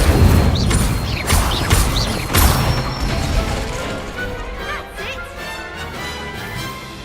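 Incendio fire spells cast in Hogwarts Legacy: loud booming, crashing bursts fire in quick succession over the first few seconds, then trail off into softer crackling and whooshing effects.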